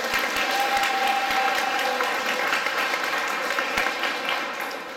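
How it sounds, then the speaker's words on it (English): Steady applause from a crowd greeting the mayor at the opening of a magic venue in Limerick, a dense sustained patter filling the space and easing off slightly toward the end, with no voices over it. "Give a big round of applause."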